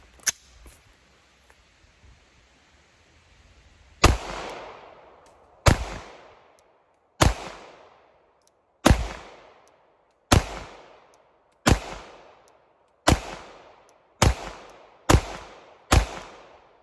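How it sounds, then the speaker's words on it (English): Ten sharp Glock pistol shots fired with a Glock Performance trigger at an outdoor range, each followed by a short ringing decay. After about four seconds of quiet they come in a steady, fairly quick cadence, and the pace picks up toward the end. "first shots out of the Glock Performance trigger"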